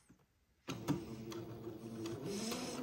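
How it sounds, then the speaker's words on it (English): A sewing machine runs a straight seam joining a cuff to the bottom of a gathered white dress sleeve, starting after a quiet moment and whirring steadily and softly with a few light clicks. "using a straight seam, I will sew the cuff to the bottom of the gathered sleeve now"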